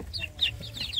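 Young native village chickens, chicks and cockerels together, clucking and peeping close by in a short busy burst of overlapping calls.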